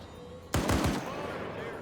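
Burst of rapid gunfire in Arma 3, three or four loud close shots in quick succession at a trench position, ringing off into a steady background after about half a second of quiet ambience.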